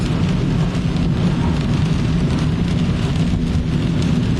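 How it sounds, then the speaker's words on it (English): Storm wind squall with heavy rain roaring steadily and close, a dense continuous rush with no pauses, in a town hit by severe storm damage with big trees coming down. "Big trees, I think we've caught up with a wind squall, that's for sure."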